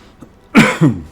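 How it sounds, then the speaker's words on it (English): A single sharp cough in two quick bursts, close and fairly loud, after a moment of near silence. "sorry about the cough"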